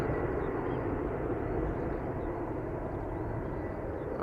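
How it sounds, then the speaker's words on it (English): A KLM Embraer 190 airliner at Schiphol Airport gives a steady, broad engine roar, loud and continuous throughout with no talk over it. "This is KLM flight 1201, the Embraer 190"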